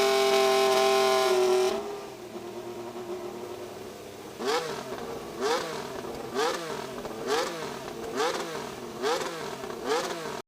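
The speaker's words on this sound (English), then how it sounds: "I think I can confirm that it's a Formula 1 engine." Formula 1 car engine, a McLaren MCL XX, revving in a series of sharp, rhythmic bursts at close range after a steady high tone cuts off, with no talking.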